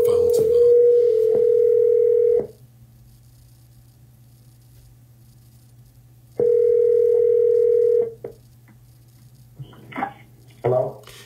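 A telephone rings out on a follow-up call, two long steady electronic tones separated by a quiet gap over a faint constant hum, with a few brief clicks and noises near the end.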